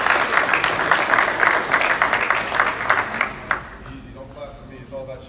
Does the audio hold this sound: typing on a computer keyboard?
no